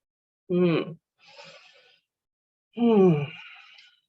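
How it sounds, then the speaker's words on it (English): A woman takes an audible breath mid-conversation, with two short voiced sighing exhalations framing a soft airy inhale, close and fairly loud against silence, no words spoken. "I just need to take a breath and let it come in."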